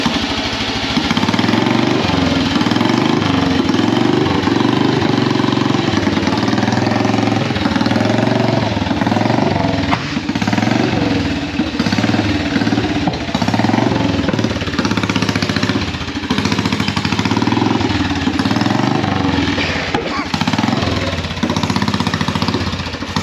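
A Royal Enfield Bullet motorcycle starts for the first time in 15 years, its single-cylinder engine settling into a loud, steady running chug that continues alone without a break.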